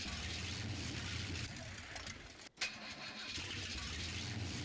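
A truck engine in the video game Spintires Mudrunner: a steady low engine rumble that drops out briefly, then catches with a sharp start and settles back into an even idle, faint and heard alone.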